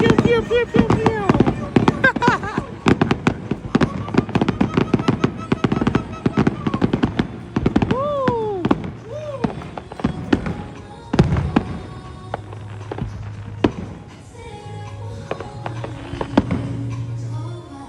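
A fireworks display at Chicago's Navy Pier, with rapid booms and crackling bursts packed closely together, loud and dense, while people talk and shout nearby.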